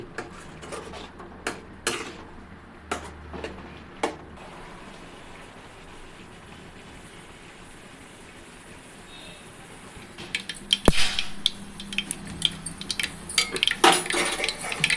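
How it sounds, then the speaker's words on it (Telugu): Mustard seeds and cumin hit hot oil for a fish curry, a few sharp isolated pops at first, then a busier stretch of crackling and spattering, with faint speech in the background. "ఆయిల్ బాగా హీట్ అయిన తర్వాత ఆవాలు జీలకర్ర మాత్రం వేసుకోండి"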